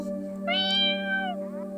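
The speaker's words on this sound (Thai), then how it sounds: "สิ้นเสียงแมวน้อย" A single drawn-out kitten meow from a cartoon, clear and close, rising and falling over a steady low hum, with a fainter trailing mew at the end.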